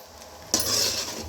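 A spoon scrapes and clinks against a bowl while mixing rice, a sudden metallic stir starting partway in and continuing as a close, bright rustling scrape with no talking.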